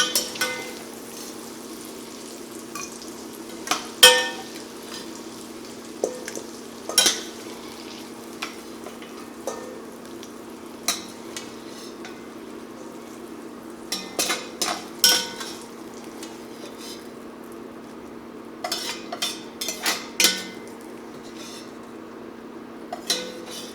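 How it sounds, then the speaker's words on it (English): Andouille sausage being lifted out of a Dutch oven pot, with scattered utensil scrapes and metallic clanks over a steady low sizzle of grease, no talk. "we're going to remove our meat from the pot"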